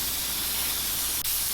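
A steady, close hiss of aerosol spray as aluminium paint is misted onto a crankbait through window screen, continuous with a brief break near the end.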